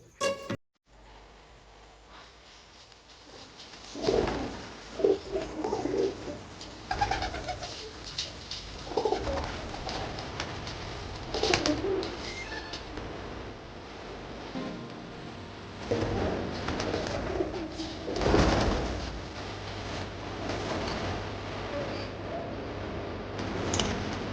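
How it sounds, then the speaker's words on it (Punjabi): Pigeons coo repeatedly in low, throaty bursts inside a loft, several birds overlapping against a soft background hum, with occasional wing flutters and rustling. "ਹੁਣ ਆਪਾਂ ਇਹਨਾਂ ਦਾ ਗੇਟ ਖੋਲ ਦਿੰਨੇ ਆ ਸਾਰੇ ਕਬੂਤਰ ਅੰਦਰ ਤੰਗ ਹੋਈ ਜਾਂਦੇ ਨੇ"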